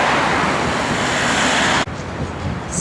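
Steady road traffic at the corner of Hackney Road and Botanic Road in Adelaide, where O-Bahn buses wait, a loud continuous wash of passing vehicles that drops abruptly near the end to a quieter hum.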